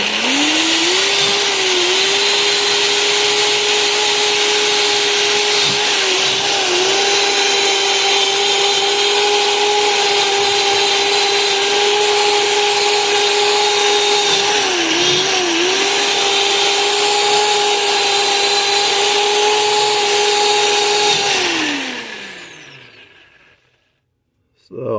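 A power tool fitted with a brass-coated wire brush whirs steadily against soft aluminum, a loud, sustained tonal drone with brief dips in pitch as it bites, before spinning down and stopping near the end.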